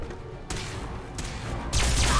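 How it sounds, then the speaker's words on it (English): An explosion in the Fallout 4 video game, sharp broadband blasts at intervals with a heavier rumbling burst near the end, fairly loud amid game noise. "Oh god, there's an explosion."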